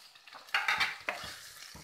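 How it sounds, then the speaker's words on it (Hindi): Paneer being added to peas in a pan and stirred, with a soft splash then scraping, stirring and light sizzling for a couple of seconds in a home kitchen. "अब मैं इसमें अपना पनीर डालूंगी।"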